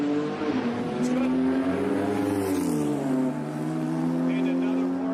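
A Porsche race car accelerates down a drag strip, its engine note a steady loud drone that climbs and then drops as it shifts gears, heard from the sidelines with people talking nearby.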